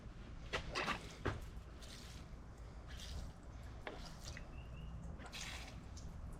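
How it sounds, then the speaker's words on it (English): Old gasoline pumped from the fuel line of a 25 HP Mercury outboard dripping into a container, with a few soft, irregular splats and trickles close by against a quiet background. "I'm going to pump some old gas out, flush the system before I connect this to the new carburetor"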